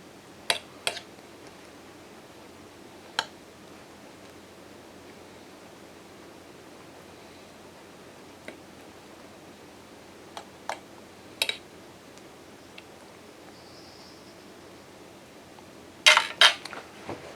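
Scattered light clinks of a spoon stirring rehydrated freeze-dried steak fajitas inside a mylar bag, sparse faint ticks over quiet background hiss, with a short cluster of louder clatter toward the end.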